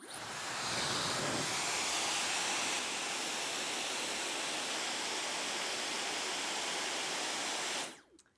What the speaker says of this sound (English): So the other option is to use a hairdryer.